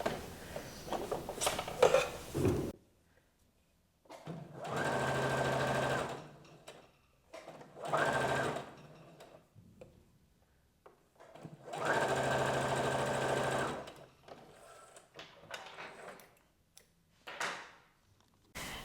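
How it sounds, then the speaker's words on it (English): A domestic sewing machine stitching fabric for a beginner top, running in several steady bursts of a few seconds each with short quiet pauses between them, close and fairly loud. "leave quite a bit of thread hanging there towards the back of your machine"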